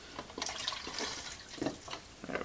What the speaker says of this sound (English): So, all right, let's get this poured out.